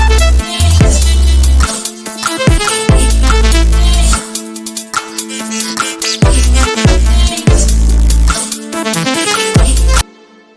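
An electronic track hits its drop and build-up, layered synths over a pounding kick pattern with repeated loud bursts and short gaps, then cuts off near the end.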